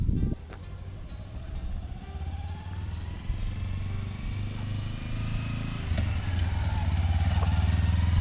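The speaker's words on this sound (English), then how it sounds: "Second gear. He's downshifted. Applying brake. Foot down." A motorcycle downshifts into first and brakes to a full stop before going into neutral. Its low engine rumble throbs steadily up close, with slight shifts in pitch and no voices.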